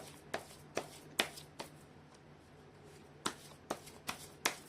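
Tarot cards being shuffled by hand in short, crisp riffles, about eight separate close bursts with a pause in the middle, quiet and with no voice.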